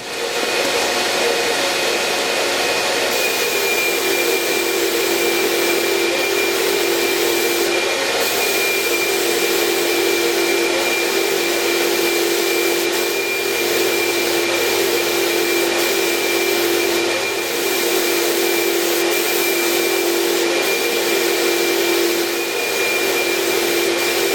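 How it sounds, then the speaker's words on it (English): A steady, loud hiss of a paint spray gun spraying sanding sealer continuously, a constant airy whoosh with a faint whine, no talking. "Got our paint gun loaded up with sanding sealer."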